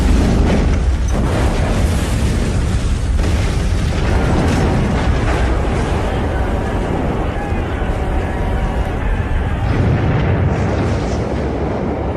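A methane gas explosion on the Deepwater Horizon oil rig fills the clip with a dense, continuous roaring rumble, loud throughout, with bursts and crackling layered over heavy low-end noise.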